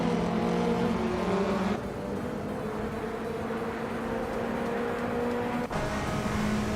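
Race cars in a racing video game roar steadily past at close range, engine tones holding and shifting, with a brief dip and sharp transient near the end; no voices.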